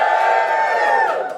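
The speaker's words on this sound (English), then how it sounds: "Give us a cheer if you identify as a feminist." Live audience at a comedy podcast recording cheering and whooping, a loud, bright burst of many voices that holds for a moment and then fades slightly at the end.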